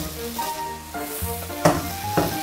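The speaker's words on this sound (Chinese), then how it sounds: "给它煎熟" Mushrooms sizzle as they fry in a little oil in a pan, a steady close crackle with soft clinks and stirring sounds from a utensil around the pan.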